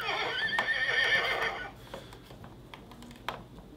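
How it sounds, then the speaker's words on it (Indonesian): A Toy Story Bullseye plush toy horse gives a bright electronic whinny lasting about a second and a half, followed by faint clicks and handling noise. "Namanya juga suara kuda ya, gitu-gitu doang gitu."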